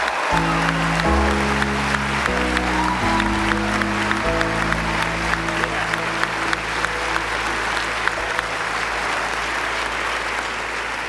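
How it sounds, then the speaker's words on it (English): Steady applause fills the whole stretch, with loud sustained synth chords layered on top. "Give yourself a round of applause, please."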